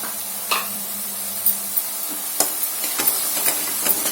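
Fresh green peas frying in a pan for a spinach and paneer curry, a steady soft sizzle with occasional light clicks and taps of stirring, no talking.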